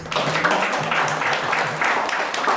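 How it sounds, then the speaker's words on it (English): Audience applause in a hall, a dense, steady wash of clapping from many hands lasting a few seconds at fairly close range. "Give him a round of applause."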